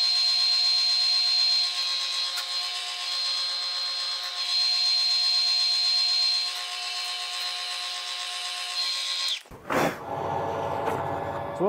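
A power drill drilling metal whines steadily at high pitch for several seconds, then cuts out abruptly, followed by a short clattering, grinding burst.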